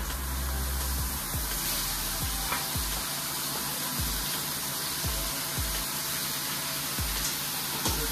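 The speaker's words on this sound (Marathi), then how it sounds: "आपण मशरूम्स आता फ्राय करून घेऊ थोडे" Mushrooms shallow-frying in a pan for a desi-style mushroom curry, giving a steady close hiss and sizzle, with soft periodic knocks underneath, and nobody speaking over it.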